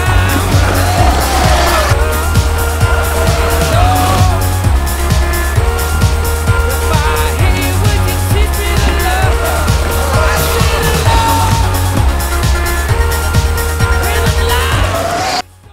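An electric board rolls over rough ground for a sustained stretch: continuous loud wheel and motor rumble with rattling and clattering throughout, close to the rider, ending abruptly.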